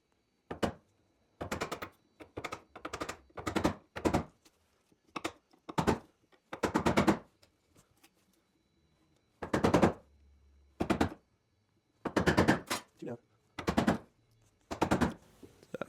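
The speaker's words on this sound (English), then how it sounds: "Start to chisel down." A chisel chops across wood grain in clustered bursts of sharp, close knocks and cracks, separated by short pauses as the tool is repositioned.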